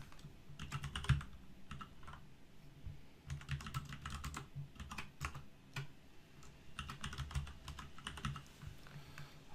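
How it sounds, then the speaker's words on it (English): Steady bursts of typing on a computer keyboard during Word document entry, clicking keys in quick rhythmic runs separated by short pauses, close and moderately loud with no talking. "now we're going to type in"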